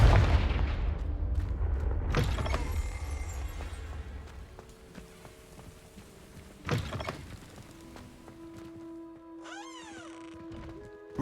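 A Confringo explosion spell cast in Hogwarts Legacy, heard as a sharp blast near the start followed by a second loud burst midway, with lingering rumble and magical whooshing tones fading out.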